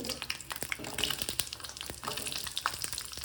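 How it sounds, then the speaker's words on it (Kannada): Sambar onions fry quietly in oil with pepper, cinnamon, cloves and cardamom, a faint crackling sizzle with light stirring scrapes and scattered pops, no voices heard. "ಸಾಂಬಾರು ಈರುಳ್ಳಿ ಫ್ರೈ ಮಾಡ್ಕೊಳ್ಳೋಣ."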